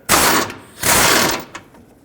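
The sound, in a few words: ratchet with 13mm socket removing bolt on Ford F-250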